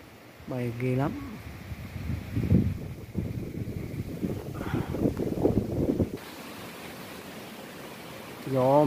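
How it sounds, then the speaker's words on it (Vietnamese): Strong wind rushes through Buôn Đôn forest, a broad, steady roar that buffets the microphone, with voices talking at the start and the end. "Gió mạnh rồi chứ, hay bác."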